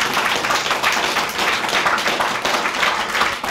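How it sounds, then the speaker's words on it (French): A studio audience on a French talk show claps steadily, a dense, even patter of applause sustained throughout at close range. "Là, on applaudit ici"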